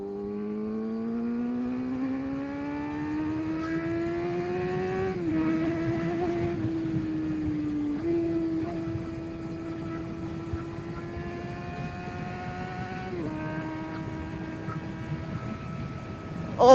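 A 2012 Suzuki GSX-R750 sport motorcycle accelerating hard at full throttle, its engine note climbing steadily through several gears with brief dips at each shift, loud and close with wind noise.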